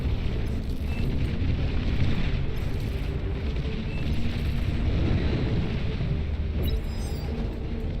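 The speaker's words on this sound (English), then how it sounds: "Nuclear missile launch detected." Continuous loud rumbling roar of a nuclear missile launch in the real-time strategy game Beyond All Reason, a sustained deep blast-like wash with no talk.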